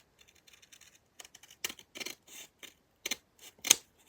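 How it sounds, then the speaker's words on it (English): Scissors snip across the end of a paper coin envelope, trimming a thin strip: a run of small, close, crisp cuts that get sharper and louder toward the end, with no speech. "I'm going to do the same thing and cut close to 1/8 of an inch off"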